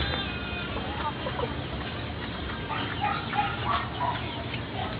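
Backyard poultry flock of mixed chicken breeds clucking steadily and continuously at close range, with rustling farmyard background and no clear talk.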